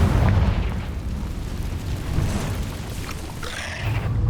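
Confringo blasting spell explosions in the Hogwarts Legacy video game, loud booming bursts with rumbling low end and crackling debris, dense and continuous through the fight, no speech.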